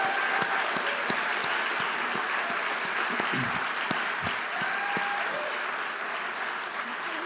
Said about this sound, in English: Let us have one more applause for these amazing students and scholars.